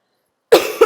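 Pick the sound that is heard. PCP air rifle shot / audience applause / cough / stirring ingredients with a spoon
cough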